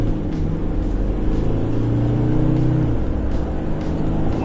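Engine of a 2017 Isuzu MU-X being revved to about 4,000 RPM, a loud steady drone that rises in pitch and then falls away, with no voices over it.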